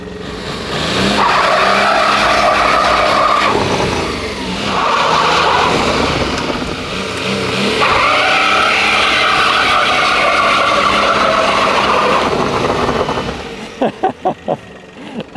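A car brakes hard and skids across tiled paving, its tires squealing loudly in long sustained sweeps that rise and fall, ending in a few sharp knocks.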